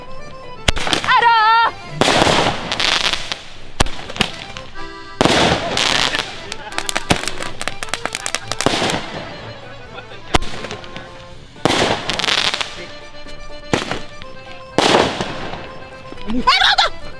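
Firecrackers and bomb-type fireworks go off in repeated sharp bursts and crackling volleys, loud and close, spread irregularly throughout, with people talking between the blasts.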